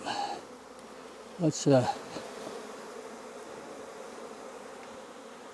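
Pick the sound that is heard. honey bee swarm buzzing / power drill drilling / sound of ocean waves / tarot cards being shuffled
honey bee swarm buzzing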